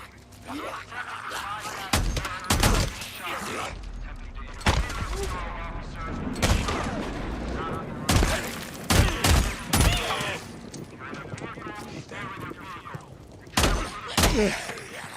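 An MG45 machine gun fires in the video game Days Gone, with loud bursts and single sharp shots scattered at irregular intervals and a low ambient bed between them.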